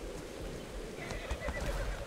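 A horse in the video game Atlas whinnies with a thin, drawn-out neigh over a steady low rumble, with faint hoof clops in the background.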